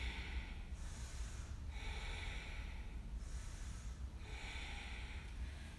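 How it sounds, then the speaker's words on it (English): Slow, deep breaths during a yoga twist in a vinyasa flow, with three soft, airy inhales and exhales repeating at an even, relaxed pace, close and quiet. "Nice exhale here. And take a few breaths."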